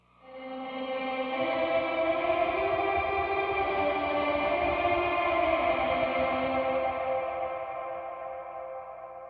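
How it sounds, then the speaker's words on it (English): A voice drenched in the Meris Mercury X Vocal Wash reverb preset, forming a sustained shimmering wash of smeared harmonic tones that swells in, holds steady and slowly decays, with no speech. "It is a vocal kind of reverbed out called Vocal Wash"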